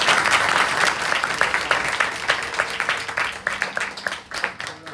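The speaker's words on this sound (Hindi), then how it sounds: "इसलिए एक ताली और बजाओ" An audience applauds after a musical composition is performed, a dense burst of many hands clapping that gradually thins into scattered, fading claps.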